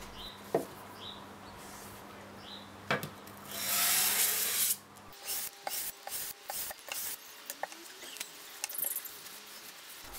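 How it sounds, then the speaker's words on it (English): A cast iron hand plane base is rubbed back and forth on a sheet of 250 grit sandpaper to flatten it, giving a close, steady rasping scrape with a louder sustained stretch midway, then shorter strokes. "As you can see, only the outer edges of the base have been in contact with the sandpaper"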